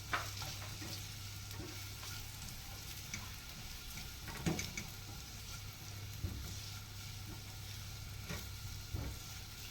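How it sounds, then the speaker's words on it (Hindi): Carrots sauté in a frying pan with a steady low sizzle, broken by occasional stirring scrapes and clinks, heard alone without talk. "और इनको हम थोड़ा सा सौते कर लेंगे।"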